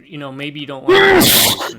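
A person gives one sharp, loud sneeze right after a short spoken phrase, with a quick breathy burst at the end.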